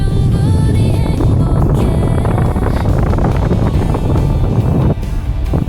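Strong wind buffets a small fishing boat out at sea for cuttlefish, a loud, continuous rumbling roar with gusty turbulence, broken by a brief dip near the end.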